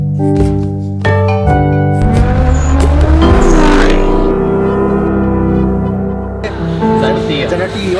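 A Nissan GT-R sports car is driving, with a loud engine note and tire noise that rises and shifts under continuous excited talking from people inside.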